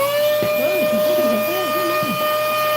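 A vacuum cleaner hums steadily at close range while cleaning out a wooden PC case, and a person talks over the constant whine.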